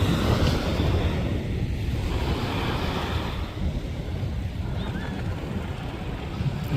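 Sea surf washes steadily onto the shore at Madhavpur beach while strong wind buffets the microphone, a continuous roaring rush with no clear breaks.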